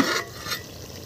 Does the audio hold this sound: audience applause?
no